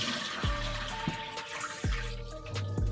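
Tap water runs steadily while rice is rinsed in a pot, with a few soft splashes and clunks as the grains are swirled and the cloudy water poured off, close and fairly quiet.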